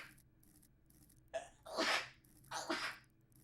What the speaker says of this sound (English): Oh, he's sneezing.